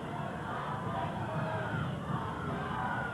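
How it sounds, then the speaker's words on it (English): A wrestling arena crowd cheering and urging on a wrestler named Pardee during a Portland Wrestling match, a dense, steady roar of many voices that stays constant and somewhat distant throughout. "The crowd urging Pardee on."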